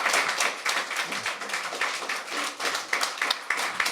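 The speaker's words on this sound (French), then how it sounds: "On peut l'applaudir." A small audience claps after a live acoustic concert in an apartment, a close, dense patter of hand claps that keeps going steadily with no talk over it.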